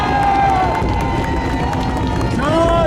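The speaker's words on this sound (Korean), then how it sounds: "뜨거운 함성, 한동훈 위원장께 보내주실 준비 되셨습니까 여러분?" A crowd at a political election rally at a singing fountain plaza cheers and shouts loudly in a sustained, dense roar, with voices mixed in.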